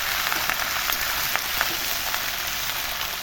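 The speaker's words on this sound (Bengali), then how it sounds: "লতিগুলো সুন্দর করে মিশিয়ে দেবো পেঁয়াজের সাথে নাড়াচাড়া করে।" Chopped taro stolons frying with onions in hot oil, a loud continuous sizzle with occasional crackles and light stirring taps, close up and without speech.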